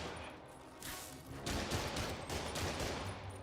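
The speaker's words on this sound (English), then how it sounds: "They're shooting at the police." Video game gunfire as criminals shoot at police in a Spider-Man game, a dense, continuous rattle of rapid shots blending with loud background game noise.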